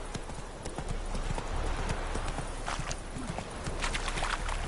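Roach the horse's hooves clip-clop steadily in Witcher 3, a dense run of hoof strikes over a busy ambient bed. Faint voices may sit underneath.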